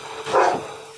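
A single muffled dog bark, fairly loud and close, rising out of a steady low hum and fading quickly.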